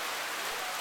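Rain falling in big, heavy drops at a campsite, a steady close hiss of pattering water with no talk over it.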